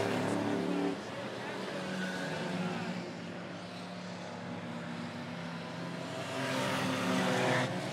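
Race cars roaring down the front stretch at Monett Motor Speedway, a loud, dense engine drone that swells as cars pass near, dips midway and builds again at the end.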